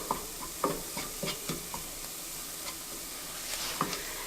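Flour cooking in a pan for steakhouse-style creamed spinach gives a soft steady sizzle under intermittent light scrapes and taps of stirring, close by with no voices.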